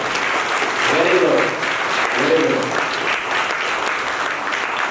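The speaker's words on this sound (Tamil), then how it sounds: "அவர்களுக்கு நீங்களாம் பாத்தீங்கன்னா மிகப்பெரிய கரகோஷம் கொடுக்கணும்" A large audience applauds warmly at a Tamil public speaking event held by a memorial trust and a health foundation, dense continuous clapping with a voice speaking over it.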